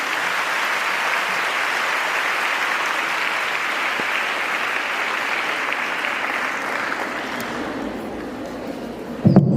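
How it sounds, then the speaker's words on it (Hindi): Loud, sustained audience applause at a legal awareness seminar, steady dense clapping for several seconds before it tapers off near the end. "जोरदार तालियां।"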